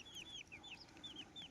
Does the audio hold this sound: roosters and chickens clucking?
yes